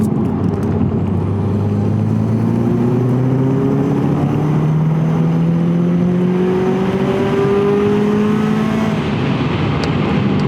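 A Subaru Impreza STI S203 with turbo engine pulls hard through the gears, its loud, steady engine note climbing in pitch, dropping at each shift, then climbing again from near the car.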